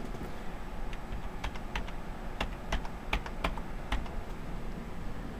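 Typing on a computer keyboard attached to a cheap secondhand Dell desktop, with scattered irregular key clicks under a steady hiss of background noise, quiet and close.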